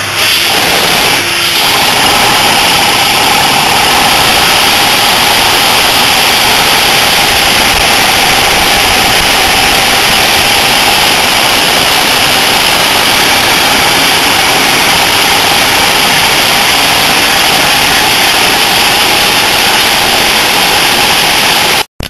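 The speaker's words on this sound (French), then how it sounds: "j'aspire, le moteur il va juste tourner dans l'autre sens." An annular trilobic piston engine spins on compressed-air suction, a loud, continuous, steady whirring roar with a hissing airflow that holds constant throughout before cutting off abruptly.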